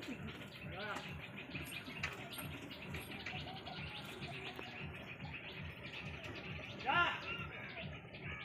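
Small-sized pigeons in a crowded loft of Madrasi and Giribaj birds, a dense, busy wash of cooing and fluttering chatter with faint chirps, moderately distant and steady throughout.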